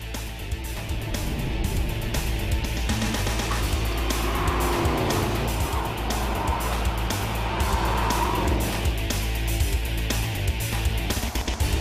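A Mercedes SLS AMG V8 with a seven-speed dual-clutch gearbox roars loudly and continuously, rising and falling through rapid gearshifts, with throttle blips on the downshifts and a sharp tire squeal.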